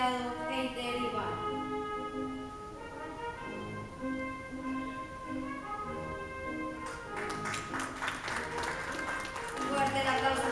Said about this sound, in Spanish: fuerte el aplauso para nuestro graduado.